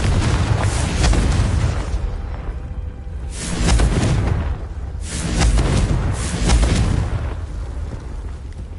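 Loud Confringo blasting-spell explosions in the Hogwarts Legacy video game: three heavy booming blasts with rumbling tails, spaced a few seconds apart, with no speech.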